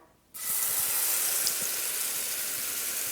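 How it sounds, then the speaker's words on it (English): A sudden loud hiss of cornbread batter sizzling in a hot skillet begins just after a moment of quiet and holds steady to the end. "Listen to that sizzle."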